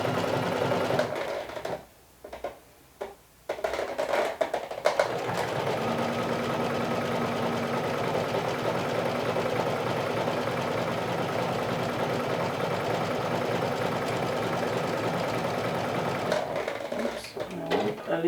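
A domestic sewing machine stitching with Tex 30 thread, a fast steady mechanical chatter running in long bursts with a few short stops and restarts, close by, with a voice talking at times.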